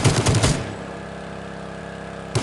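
Automatic AKM rifle fire in the video game Rules of Survival, with a loud, rapid burst of shots at the start, a low ambient hum, and another burst beginning at the very end.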